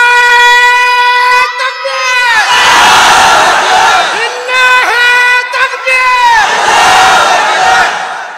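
A large crowd at an Islamic religious gathering shouts the takbir in loud unison, with repeated call-and-response chants rising into sustained roars that echo close and powerful.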